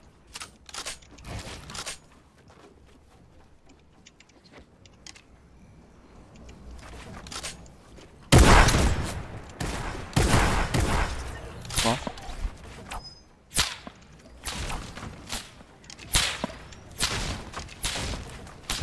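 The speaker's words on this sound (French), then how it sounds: "Y'a d'autres mecs qui nous tirent au snipe de derrière." Gunfire in a French-played squad battle royale video game, with sharp bursts of shots crackling irregularly, sparse early then dense and loud from midway, mixed with excited player voices.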